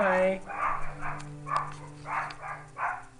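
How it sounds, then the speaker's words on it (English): A Pomeranian barks in the background with yips and short barks in bursts, fairly faint beneath someone speaking closer in. "He is a lot like his mother, who is barking in the background."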